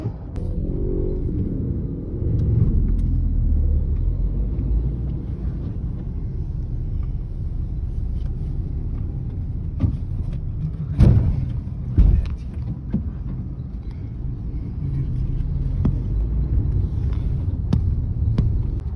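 A car, recently bought in Argentina, driving along a road toward Córdoba: a steady low engine and road rumble heard from inside the cabin, with a few louder thumps and knocks midway.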